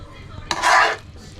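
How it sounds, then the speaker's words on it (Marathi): A spoon stirs vegetable curry with curd in a metal pot, giving one short scraping clink with light utensil rattle, close and fairly loud over a quiet room. "आता ती ढवळ आणि वाढ"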